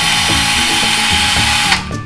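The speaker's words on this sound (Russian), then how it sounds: "Как правильно пользоваться дрелью?" A toy power drill for a two-year-old whirring continuously with a ratcheting mechanical rattle, loud and close, cutting off abruptly near the end.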